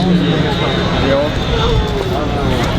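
A Boeing C-17 Globemaster III taxis and turns at an airshow, its engines producing a steady roaring whine under a loud announcer voice.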